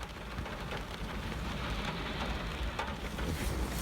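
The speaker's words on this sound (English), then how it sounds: "It's raining like crazy." Heavy rain falls steadily in a constant, loud wash, with no talking and a possible faint rumble underneath.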